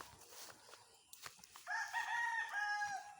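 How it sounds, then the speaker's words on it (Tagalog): Gamecocks at a poultry yard: a brief faint cluck comes first, then a close, loud drawn-out rooster crow fills the last half of the clip over quiet outdoor background. "May poultry dito. Oh, mga sasabungin."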